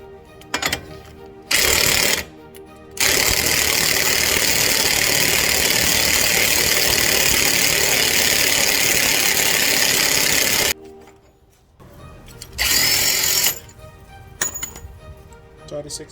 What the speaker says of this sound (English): So now we can loosen up the axle nut.